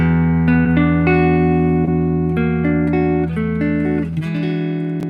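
Guitar chord moved up to E ringing out, a sequence of sustained plucked notes and chord changes with clear harmonic tones, played alone and fairly loud.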